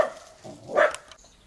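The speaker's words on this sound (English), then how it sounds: "dog's barking" Dog barking at the postman near a carport, a short burst of barks that peaks briefly and fades, faint and somewhat distant.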